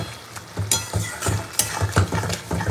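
A spoon stirs fig curry in a pan after garam masala is added, rhythmic scraping and sizzling strokes repeating about every half second, close and moderately loud with no talking.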